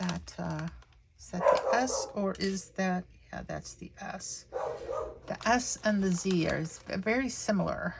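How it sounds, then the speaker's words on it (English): Dogs bark in short bursts under steady close talking by a person at a craft table, the barks half-buried by the voice. "Again, I apologize for my goofy dogs."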